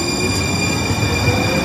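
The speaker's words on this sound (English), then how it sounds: "This one's heading, pulling into the next station." Train arriving at an elevated Portland, Oregon light-rail station, a steady close rumble of wheels and rail noise with faint squeal, continuous and fairly loud, no voices.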